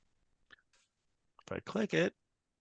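A soft computer mouse click opens a hyperlink, followed by a person speaking briefly in an otherwise quiet room.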